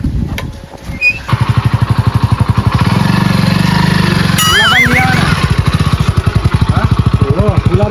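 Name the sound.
motorcycle engine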